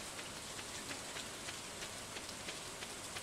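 Steady rain falls in Stardew Valley, a soft, even hiss of drops pattering on surfaces with scattered brighter ticks, continuous and unbroken with no voices.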